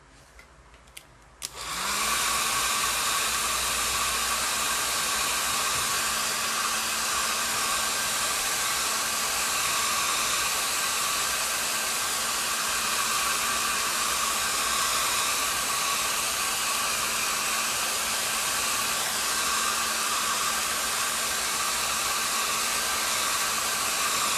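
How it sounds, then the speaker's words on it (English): A hair dryer blows steadily at close range for the full length, drying watercolor paint on paper; a constant loud whooshing roar with a steady motor hum starts abruptly after a brief quiet moment. "I'm going to pull out a hairdryer."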